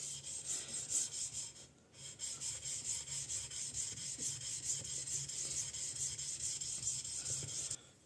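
An usuba knife is sharpened on the fine side of a DMT diamond plate, making a soft, steady rhythmic scraping of strokes back and forth, close but quiet, with a brief pause midway.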